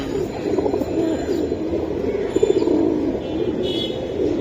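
Pigeons coo steadily and close by, with soft overlapping calls filling a few seconds and an occasional faint chirp.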